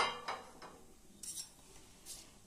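A utensil scrapes and taps against a pan in a few quiet, separate strokes, mixing tempering over sandwich dhokla, with a faint sizzle in the background.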